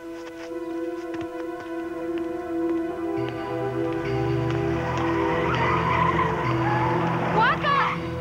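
A car in a 1997 American thriller film skids hard with a long, rising tire squeal over engine noise, loud and close, building toward the end; no speech in the clip.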